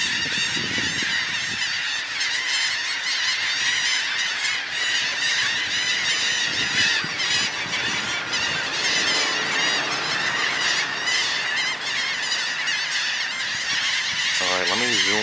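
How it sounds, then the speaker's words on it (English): A large flock of geese arrives over a beach among many shorebirds, filling the air with dense, continuous honking calls that stay loud and close throughout, with a brief louder squawk near the end. "Birds coming in like crazy."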